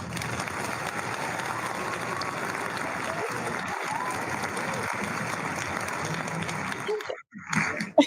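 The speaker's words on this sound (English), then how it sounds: "I always love to see like all the poets' reactions when they hear the sound of clapping" An audience applauds after a poetry reading with dense, even clapping that holds steady for several seconds, then fades and stops near the end.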